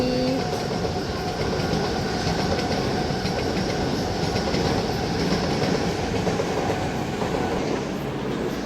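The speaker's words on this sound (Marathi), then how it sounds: "हे बघा ट्रेन चालली." Train passing a station, watched from a hall window, a steady close rumble with rail clatter that runs unbroken for the whole stretch with no voices over it.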